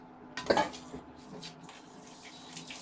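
A spoon stirs dried fish gravy in a pan: one clear metallic scrape and clink early, then softer liquid stirring sounds, fairly close and quiet.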